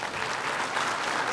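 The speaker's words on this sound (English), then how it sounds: "shall we all rise up and clap our hands?" Audience applause at an Indigenous People's Forum gathering in Manipur, many hands clapping in a dense, steady roar that fills the whole moment without a break.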